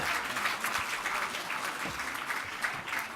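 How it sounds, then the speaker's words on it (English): Audience applause at a White House Correspondents' garden brunch, a fairly faint, continuous spread of clapping heard from a distance, without a break. "I think that deserves a round of applause."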